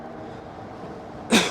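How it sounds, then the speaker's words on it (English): A single short, sharp cough near the end, standing out over steady background noise while riding a vehicle. "I'm just gonna cough there."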